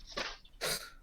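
Two quick, explosive sneezes, one near the start and a stronger one just after the middle, sharp and fairly close, with no talking.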